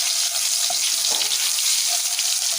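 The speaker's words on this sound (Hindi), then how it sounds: "इसके अंदर ये 1 चम्मच हम अदरक लहसुन का पेस्ट डाल देंगे।" Ginger garlic paste sizzling in hot oil in a pan, a loud continuous hiss and crackle of frying, close up with occasional stirring and no talking.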